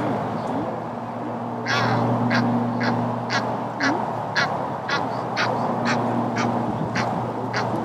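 Egyptian goose calling beside a carp fishing lake in summer, a run of sharp repeated honks and squawks at an even rhythm, fairly close, over a steady low background hum.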